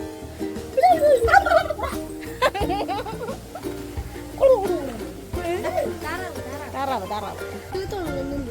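Rapid, warbling turkey gobbles repeat several times nearby, mixed with people talking and a voice.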